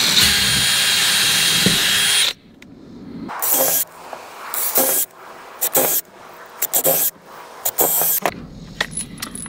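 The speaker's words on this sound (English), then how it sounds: "I always like to pre-drill these holes so it doesn't split the wood." A power drill pre-drilling holes in wood to keep it from splitting, one loud continuous whir at the start, then short separate bursts of drilling and handling noises close by.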